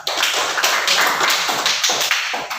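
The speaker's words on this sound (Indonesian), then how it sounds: "kasih Amtus tepuk tangan untuk kelompok 2" A classroom of sixth-grade students claps for group 2 during an Islamic studies lesson, a dense, close burst of many hands applauding steadily without speech.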